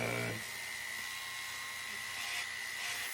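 A small rotary tool spinning a 1.25 mm ball burr texturing a metal jewelry bezel about 4 mm tall, giving a steady high-pitched whine that runs throughout, opening with a brief lower hum.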